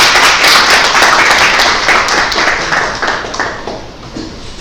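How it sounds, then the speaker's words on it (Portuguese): An audience at a physics mini-course bursts into loud, close applause to welcome a guest presenter, dense clapping that gradually thins and fades over several seconds. "peço uma salva de palmas"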